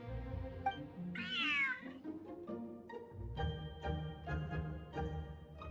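A cat meows in the Genshin Impact event Feline Fortress Furrdyssey, one clear, rising-and-falling meow near the start against soft game music, with background tones continuing afterward.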